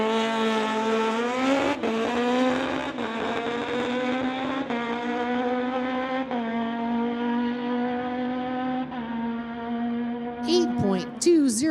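Corey Craig's Suzuki Hayabusa on a street-legal drag strip run: a loud, sustained engine wail that climbs steadily in pitch, broken by brief dips at each gear change, ending in a few sharp chirps.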